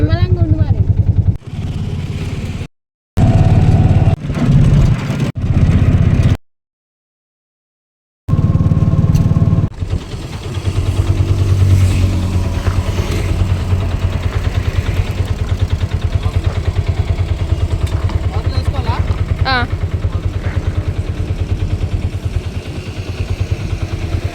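Motorcycle engines idle and pull away as riders set off on a road trip, with a steady engine rumble running under frequent nearby talk and brief breaks in the sound.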